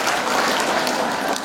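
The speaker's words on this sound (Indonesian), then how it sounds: "Tepuk tangan untuk Indonesia." An audience at a school anniversary reception claps in a dense, loud, sustained burst that stays even throughout.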